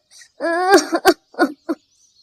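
A few rough, raspy coughs and throat-clearing sounds close up, in short separate bursts with pauses between them.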